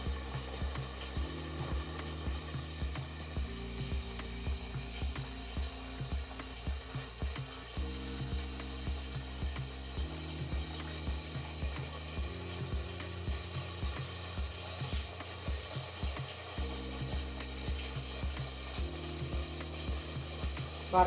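Marinated fish sizzles steadily in a hot pan, a continuous crackling fry with faint rhythmic scraping or stirring underneath and no voices.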